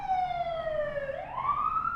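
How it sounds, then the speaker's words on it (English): An ambulance siren wails as the vehicle rips down a city street past a hospital, a single loud tone sweeping downward then rising again, close and alone with no talk. "So like 3 or 4 times a day is just an ambulance ripping down the street."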